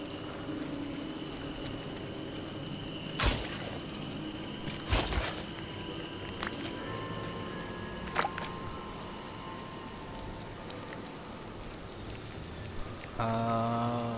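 Steady rain falls with a constant hiss, and a few sharper drips and knocks stand out now and then. A brief louder burst comes near the end.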